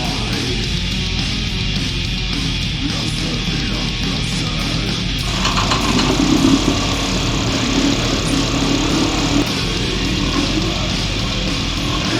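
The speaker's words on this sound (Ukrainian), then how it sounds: "після декількох протяжок двигунчик завівся" A small Parsun outboard motor idles steadily and loudly nearby, its running tone shifting slightly partway through.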